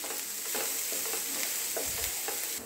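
Chopped onions and finely cut capsicum fry in a pan, a steady close sizzle with soft stirring scrapes, brief and even with no voices.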